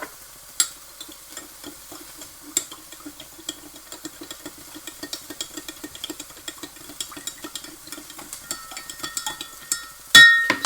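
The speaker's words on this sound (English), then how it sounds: "Keep stirring that in nicely." A spatula stirs chili flakes into a stir-fry sauce with prawns and noodles in a pan, giving scattered scrapes and light clinks over a soft sizzle, with a louder clatter at the end.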